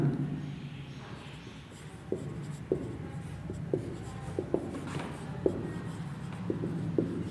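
Writing on a board during a class 9 chemistry lesson: quiet scratchy strokes broken by a series of light, irregular taps as each mark is made, heard close and alone.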